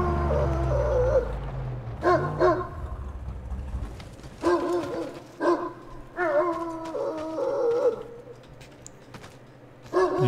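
A dog in the Mad Max video game whimpers and whines in a series of short, high, wavering cries spread across the clip, near and clear, over low engine-like rumble at the start.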